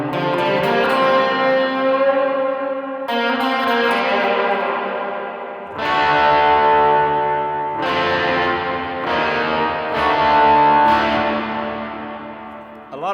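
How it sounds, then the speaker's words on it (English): Electric guitar through a Line 6 Pod Express with heavy reverb plays sustained, distorted chords, each one ringing out and blooming into a long spacious tail before the next strike, about five chords across the passage, loud and without talk. "lot of reverb on tap"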